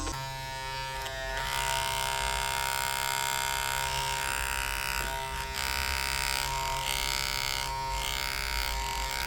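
Wahl Vapor hair clippers running steadily with a loose internal part, a dense close-up electric buzz with a rattling, fluttering edge that shifts slightly in tone over about nine seconds, no talking.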